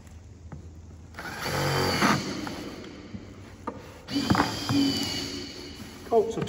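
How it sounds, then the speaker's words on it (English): A power driver runs tech screws into plastic and a foam board rebate on an internal molded corner, with two short whirring bursts separated by quieter handling noise. "I want to put a screw into the plastic, into the top of the foam board rebate, and one at the bottom"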